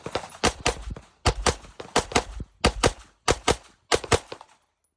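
Video game gunfire aimed at a target's head, eight evenly paced loud shots each with a short ringing tail, delivered in quick pairs and singles with brief gaps, close and alone without talk.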